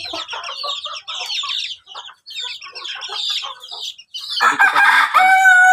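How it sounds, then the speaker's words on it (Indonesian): Filipino chickens cluck in a dense, continuous run of close, loud calls, with a louder harsher squawk or crow near the end; no talk. "Nah ini ciri-ciri ayam Filipina ya teman-teman."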